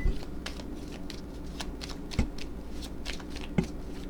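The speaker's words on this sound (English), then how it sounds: "let me shuffle these cards." Tarot cards being shuffled close up, a steady soft riffling with a few sharper taps, no talking.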